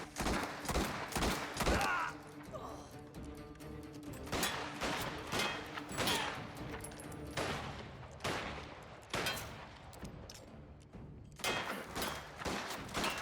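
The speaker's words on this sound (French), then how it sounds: "Continue de tirer!" Gunfire in the video game Mafia The Old Country: rapid bursts and volleys of shots crackling in quick succession, loud and dense, with brief pauses between clusters.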